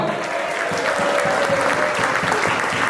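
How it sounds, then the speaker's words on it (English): Steady, full audience clapping for producer Drumma Boy at a live talk, continuous and fairly close for the whole stretch, with a faint sustained tone running through the middle. "I said clap your hands one time for Drumma Boy."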